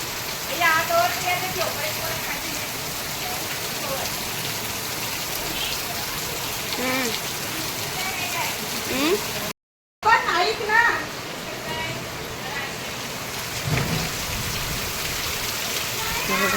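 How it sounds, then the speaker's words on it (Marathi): Steady rain patters on a surface throughout, with children's voices and playful shouts mixed in over the downpour. "पाऊस आला आणि भिजत आहेत तशी बघा"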